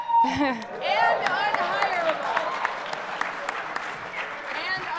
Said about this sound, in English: you guys all are clapping